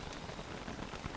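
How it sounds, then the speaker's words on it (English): Steady rain falls in the video game Don't Starve: Reign of Giants during autumn, a dense, even hiss of drops with no talk over it. "you can only expect, rain during the autumn or the fall"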